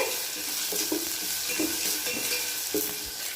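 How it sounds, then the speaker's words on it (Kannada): Chopped green chilli is stirred in a pan over a medium flame: a steady, close sizzle with a spatula scraping the pan every second or so. "ಈಗ ಚೆನ್ನಾಗಿ ಮಿಕ್ಸ್ ಮಾಡ್ಕೋಬೇಕೆಲ್ಲ ಮೀಡಿಯಮ್ ಫ್ಲೇಮಲ್ಲಿ ಇಟ್ಕೊಂಡೇ ಮಾಡ್ಕೋಬೇಕು"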